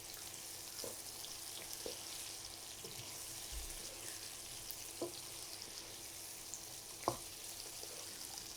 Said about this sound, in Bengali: এখানে 1 টেবিল চামচ আদা রসুনের পেস্টটা, সেটাও দিয়ে দিলাম, সব যাতে একসাথে ভাজা হয়ে যায়